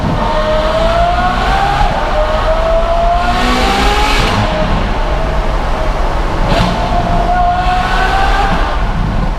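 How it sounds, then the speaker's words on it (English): Ferrari F12 with an Innotech IPE exhaust revving hard from inside the car, loud rising shrieks that climb in pitch, drop, and climb again in repeated pulls. "It sounds like an actual F1 car"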